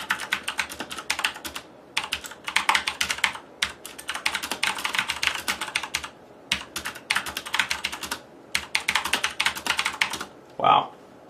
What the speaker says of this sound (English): see me at the keyboard typing